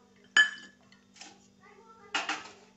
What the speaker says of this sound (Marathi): तर हे बर्फाचे क्यूब बी मी याच्यातच टाकते.